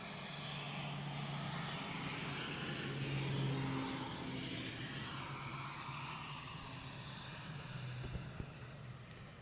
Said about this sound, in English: Landing on now the Breezer, probably for the last time.